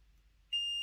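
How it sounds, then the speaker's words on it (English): After a moment of near silence, a single steady high-pitched electronic beep sounds, clear and close, lasting under half a second, as electrical contact is tested on an Airfix Class 14xx model locomotive. "So we should get a beep here."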